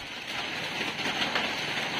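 Light drizzle falls outdoors as a steady, soft hiss of rain, constant and fairly close throughout, with no voices.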